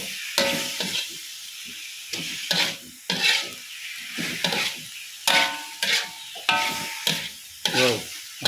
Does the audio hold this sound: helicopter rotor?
no